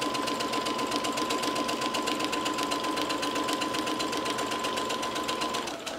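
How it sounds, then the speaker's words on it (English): A sewing machine runs steadily while stitching fabric for a Christmas stocking, a fast continuous mechanical whir with a faint steady tone, close and alone, easing off at the very end. "you can usually move the fabric as you're sewing"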